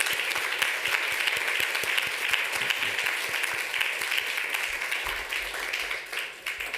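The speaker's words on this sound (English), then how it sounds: "let's give a big round of applause to everybody who participated in the program" A big round of applause from devotees at a Labor Day afternoon program, dense sustained clapping from a sizeable audience holding steady at full strength before easing slightly at the end.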